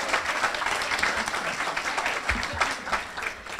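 Audience at a Women of Achievement luncheon applauds steadily, a dense wash of many hands clapping that holds evenly from start to finish with no speech over it.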